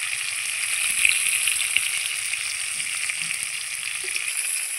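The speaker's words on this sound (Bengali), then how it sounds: "এই পিসটা একটু ভেজে নেব, তারপর আমি মাছটাকে নামিয়ে নেব।" Pieces of fish frying lightly in hot oil in a home kitchen pan, a steady, loud hissing sizzle with faint crackles and soft pops throughout, no talking.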